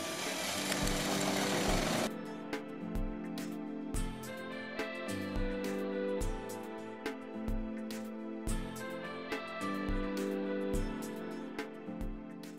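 A power drill bores into a wooden bedside table, a loud burst at first, then a series of short rhythmic whirring pulses repeating close by without speech.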